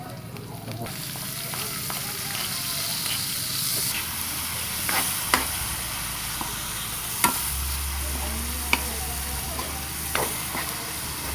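Bagoong being sautéed with tomato, onion, garlic and chili, a close steady sizzle punctuated by several sharp spatula clicks against the pan, without talk.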